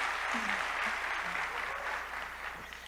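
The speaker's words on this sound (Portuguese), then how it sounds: "Y allí yo quiero que le demos un fuerte aplauso a toda la gente que nos está viendo" A church congregation claps in a sustained, even round of applause, with a few faint voices rising beneath it before it eases slightly.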